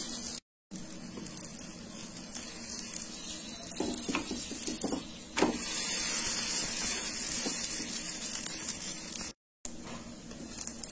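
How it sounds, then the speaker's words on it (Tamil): Moong dal and jaggery poli fries on a pan in oil or ghee, giving a steady, close sizzle with occasional scrapes and taps of a utensil against the pan. "இப்போ இதுக்கு மேல எண்ணெயோ நெய்யோ உங்களுக்கு எது இருக்குமோ அது மாதிரி ஊற்றிக்கலாம். வேகட்டும்."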